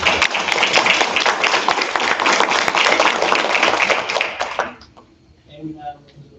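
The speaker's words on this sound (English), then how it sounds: "Let's give them a round of applause," Applause from a school board meeting audience, dense steady clapping filling the room for about four and a half seconds before stopping abruptly, followed by faint quiet room noise.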